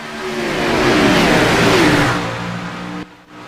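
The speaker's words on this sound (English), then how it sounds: "The pace car hooks that left, and here they come, Justin Ricci, Sidney Allen, to the green fl" NASCAR stock cars in the iRacing sim roar up to speed at Daytona International Speedway as the field takes the green flag, a loud, swelling engine drone that peaks and then fades slightly, ending abruptly.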